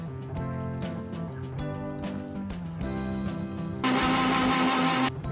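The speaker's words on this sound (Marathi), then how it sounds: "आता थोडा पाणी टाकून मिक्सर मध्ये लावून घेऊया।" A kitchen mixer grinder whirs into life, grinding jaggery, coconut, cardamom, salt and water. A loud, dense burst of blending noise lasts about a second near the end, over background music.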